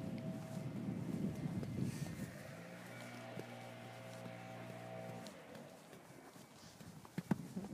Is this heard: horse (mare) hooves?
yes